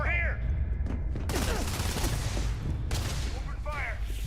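Gunfire rattles through a battle in the video game Starfield, with dense bursts and rapid volleys continuing throughout, punctuated by sharp bright blasts, loud and close.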